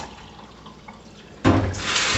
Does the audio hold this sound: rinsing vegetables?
yes